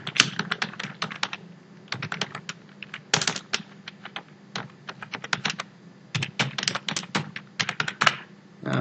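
Rapid, irregular clicking of keys on a computer keyboard during slide preparation in PowerPoint, close and steady with short pauses between bursts, no talking.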